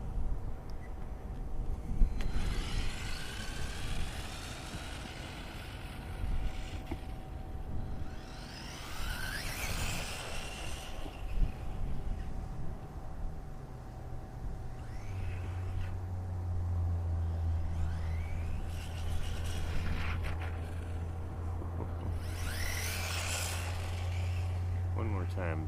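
A WLToys A969B RC stadium truck runs outdoors with a whiny electric motor that rises and falls in short bursts and then holds a steady low drone near the end, while someone talks over it.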